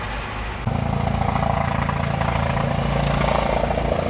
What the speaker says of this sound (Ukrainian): Вертоліт скорий.